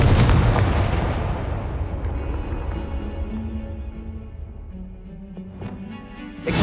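A Confringo fire spell explodes in Hogwarts Legacy with a loud, booming blast at the start, then a long rumbling decay that fades over several seconds and swells again briefly near the end.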